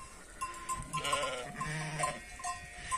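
Sheep and newborn lambs bleat on a farm in the morning, several overlapping calls at moderate distance with a faint bell tinkling, no talk.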